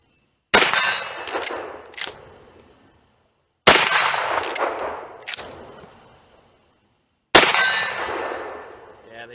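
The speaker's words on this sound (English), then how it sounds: "So we're going to see if we can put one of Frank's hot loads on target" Winchester Model 94 lever-action rifle in .44 Magnum firing hot loads at a steel target: three loud, sharp shots spaced several seconds apart, each followed by a ringing metallic clang and a fading echo.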